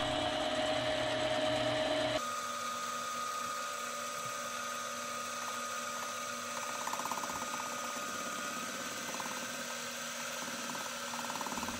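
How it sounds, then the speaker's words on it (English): A metal lathe tool bit cuts an out-of-round ring blank lubricated with cutting oil, giving a steady whirring, buzzing hum with faint periodic knocking as the blank strikes the bit, continuous and moderately quiet throughout. "the blank is out of round and it is hitting the tool bit"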